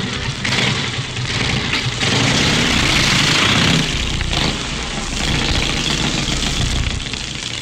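A motorcycle engine runs with a low, throaty rumble, swelling and easing in a few surges over several seconds at close range, with no talk over it.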